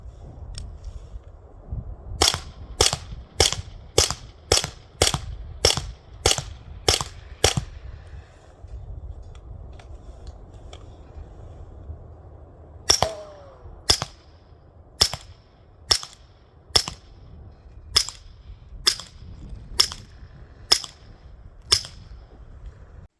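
Suppressed 9mm shots come from a PTR 9mm and a Glock 17 Gen 5, each fitted with a Dead Air Wolfman suppressor, heard outdoors as two strings of sharp, evenly spaced cracks of about nine shots each, separated by a quiet pause.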